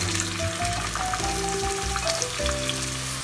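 Finely cut onions go into hot oil with cardamom and cloves, a steady close sizzle and crackle with a light stir, no talk.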